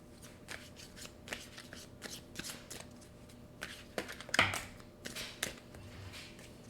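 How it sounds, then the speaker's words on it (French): Cards from an oracle deck are handled and drawn in a quiet room: soft, repeated papery flicks and shuffling rustles, close and fairly faint, with one slightly louder snap near the middle. "je vais aller chercher une carte"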